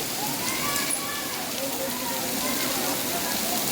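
Steady rain pours down without a break, a dense, even hiss that fills the whole stretch, with a faint murmur of people waiting for it to ease.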